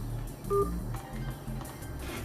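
Telephone keypad DTMF tones during a Windows XP phone activation call: a short, clear dial beep stands out near the start over a low hum, with a faint tone or two after it and no talking.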